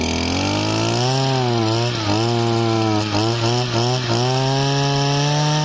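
A small two-stroke Stihl FS2101 brush cutter engine with a line trimmer head runs loud and close, its buzzing pitch revving up and down a few times before holding at high speed.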